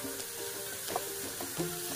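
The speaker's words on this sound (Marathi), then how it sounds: "मस्त तेलामध्ये परतून घ्यायचा आहे बघा" Chopped onion and tomato fry in hot oil with a steady, close sizzle, broken by a few soft stirring scrapes and clinks.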